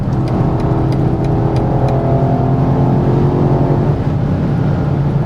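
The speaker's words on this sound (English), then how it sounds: "This is the XM label and it has 748 horsepower, and we will now take it onto the Autobahn" BMW XM Label with 748 hp accelerating hard on the Autobahn, a loud steady engine drone and road roar heard from inside the cabin, continuous throughout.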